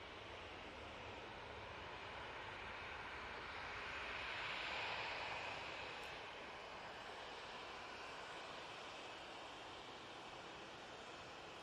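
An EasyJet airliner's jet engines whine and rumble at Manchester Airport, a steady distant roar that swells a little midway, then settles back with no voices.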